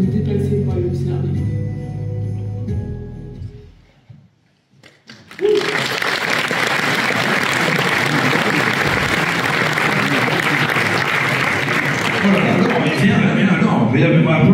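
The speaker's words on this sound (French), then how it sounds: "Applaudissons là encore une fois." An audience at a motorcycle festival awards event bursts into sustained applause after a brief quiet pause, a dense, loud roar of clapping that holds steady for about ten seconds, with a few voices mixed in.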